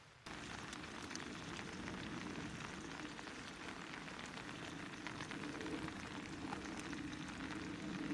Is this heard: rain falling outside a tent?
yes